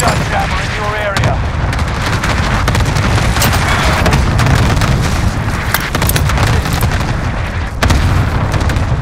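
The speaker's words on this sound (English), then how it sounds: "Cluster strike is active." Cluster airstrike explosions in the video game Warzone on Rebirth Island: a loud, dense barrage of overlapping booms and blasts rolling on without pause, with sharp cracks of gunfire mixed in.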